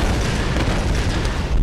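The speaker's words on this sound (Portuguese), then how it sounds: "eu não queria tudo isso. Eu queria uma pequena explosão." An explosion in the Tomb Raider video game gives a loud, sustained, rumbling blast that fills the whole moment with dense low roaring noise and no break.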